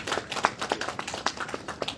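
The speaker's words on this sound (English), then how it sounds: "a big round of applause for Mr. Sanjay Matu" Scattered hand clapping from an audience at a business-to-business meet in Delhi, a steady patter of individual claps without a voice over it.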